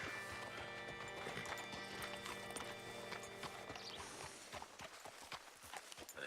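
Horse hooves in Red Dead Redemption 2 clip-clop steadily at a walk on a hard surface, close and continuous, over faint ambient game sound.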